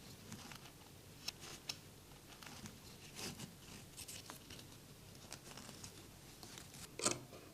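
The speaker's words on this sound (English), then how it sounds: "Cut the yarn loops with tailor's shears along the edges" Tailor's shears cutting through the yarn loops of a bright pink pom-pom, a faint, close run of scattered snips and crunches with a sharper cut near the end.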